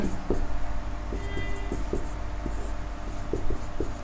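Chalk or marker writing on a board during a Hindi-language science lesson, a steady run of scratchy strokes and taps, close and clear against a constant background hum.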